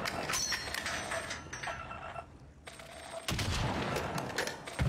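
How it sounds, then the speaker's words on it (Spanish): Sniper rifle shots crack in a battle royale video game set in Caldera, several sharp reports scattered over a few seconds amid game mechanism noise, moderately loud with no talking. "Tiramos tiros a ver si se revivía y le dábamos para abajo."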